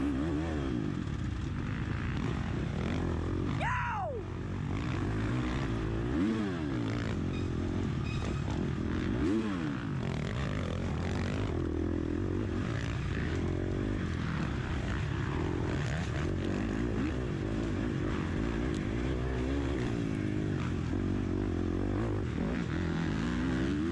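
Motocross motorcycle engines at an MXGP expert-class race, a steady droning roar of revving bikes with one close pass sweeping in pitch, heard from an onboard camera.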